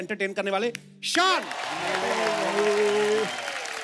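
A studio audience applauds to welcome a singer on a TV comedy show stage. A host's voice comes first, then music swells over a broad wash of clapping.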